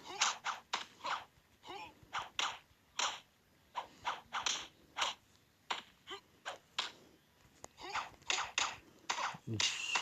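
Gunfire in the Shadow Fight 2 fighting game, a rapid series of sharp cracking shots in irregular bursts across the whole stretch, fairly faint, with no voices.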